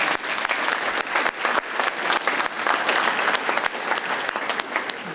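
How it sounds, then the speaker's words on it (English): A seated audience at a university career services panel discussion applauds the panelists, with dense, steady clapping at close range that carries on for the whole stretch. "Let's give all of our panelists a round of applause."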